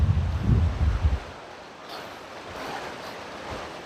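Water rushes in a steady broadband roar at Mekkarai Dam near Sengottai. A burst of low, blustery wind rumble opens the first second, then the torrent continues evenly on its own.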